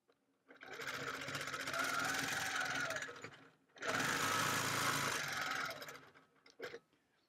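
A sewing machine runs a straight quilting line on a Celtic wedding ring quilt, whirring steadily in two sustained bursts separated by a short pause, with a brief faint click at the end.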